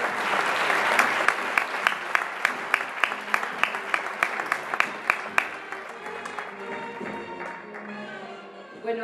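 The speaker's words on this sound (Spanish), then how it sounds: "Un aplauso para ella." Audience applause at a Lent concert in Socuéllamos, a broad wash of clapping with distinct sharp individual claps standing out, gradually thinning and fading under a low murmur.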